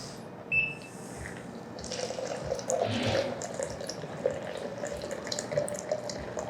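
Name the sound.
pouring hot water onto coffee grounds in a French press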